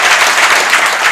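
Applause from a crowd at the women's singles final of the 2018 Racquetball World Championships, a dense, steady wash of clapping that stays loud and even throughout.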